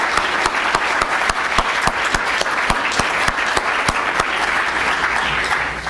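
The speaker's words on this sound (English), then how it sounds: "I think we should give a round of applause" A conference audience applauding, a steady round of clapping from a roomful of people that goes on for several seconds with no break and no talk.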